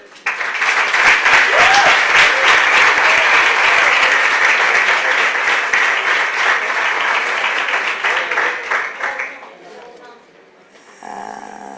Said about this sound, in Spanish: Un aplauso más grande para los que han pasado hasta ahora